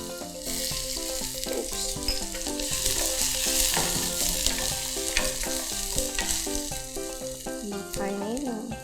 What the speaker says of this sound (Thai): พอน้ำมันเริ่มร้อนแล้วค่ะเราก็ใส่กระเทียมกับพริกลงไปผัดเลยค่ะ